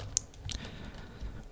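Soft keyboard and mouse clicks during a Fall Guys session, a couple of crisp close taps followed by faint light clicking against a quiet background.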